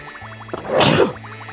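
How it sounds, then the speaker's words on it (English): A single sharp human sneeze, loud and close, bursting out for about half a second over looping background game music. "I don't know what's making me sneeze."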